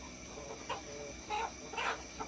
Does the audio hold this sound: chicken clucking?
yes